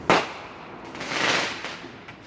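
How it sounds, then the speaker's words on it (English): Fireworks burst overhead in a sharp crack followed by a longer rumbling, crackling wash and a few fainter pops, moderately distant and loud. "Staying under the fireworks almost gone wrong."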